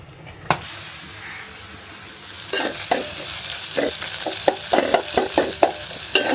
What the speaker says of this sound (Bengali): খুব অল্প পরিমাণ ডাল রান্না করতেছি